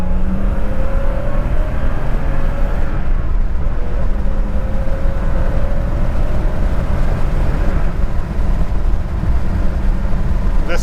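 A 1989 Porsche 930 Turbo's engine pulling hard under acceleration, a loud, steady, close roar with a rising tone, heard from inside the car and filling the whole stretch.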